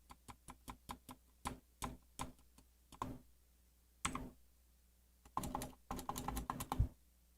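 Close, crisp keystrokes on a computer keyboard enter a command, coming in irregular bursts of quick clicks with brief pauses between them, over a quiet low hum.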